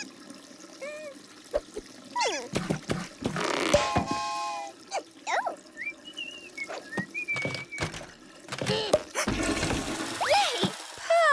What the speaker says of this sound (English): Perfect plunging plumber.